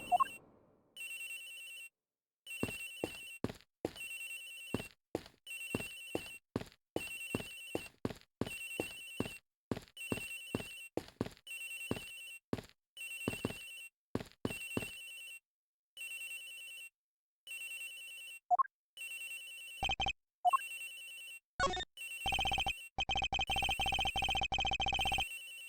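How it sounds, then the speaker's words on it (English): Rapid electronic blips tick along in irregular bursts before Agent Higgs' phone in a video game breaks into a sustained, bright synthetic ringtone that grows denser and louder toward the end, with no voices. "Agent Higgs' phone is ringing from somewhere,"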